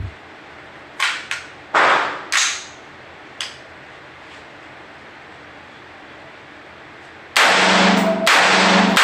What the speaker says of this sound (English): It's a semi-automatic, shoots one round at a time when you pull the trigger.